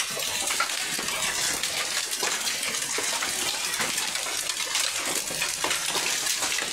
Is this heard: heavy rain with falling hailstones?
yes